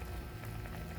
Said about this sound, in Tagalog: Habang kumukulo siya ng ganyan.